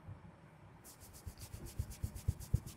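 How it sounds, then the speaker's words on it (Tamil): Amrutanjan balm is rubbed onto skin by hand, making soft, close strokes that become a quickening, steady rhythm of brushing friction. "இப்போ அந்த தைலம் வந்து என்னை தேய்க்கிறதுக்காக நீ எடுத்தியா?"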